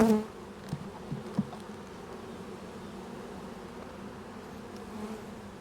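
Honeybees drone steadily around an open hive during queen rearing, with many foragers out, a continuous near buzz after a few brief knocks at the start, with no talking.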